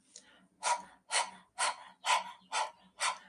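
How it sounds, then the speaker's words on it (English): A person pants rapidly through the mouth with the tongue out like a dog during a breathing exercise: six strong, evenly spaced breaths, close and breathy, with no talking. "let's bring our tongue out and start panting like a dog"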